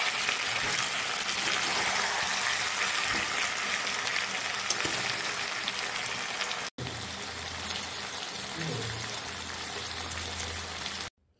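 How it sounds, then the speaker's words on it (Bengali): Chicken sizzling and being stir-fried in a pan in a home kitchen, with a steady close hiss of frying that runs throughout and fades briefly near the end. "চিকেনটা কষিয়ে নেব এবারে।"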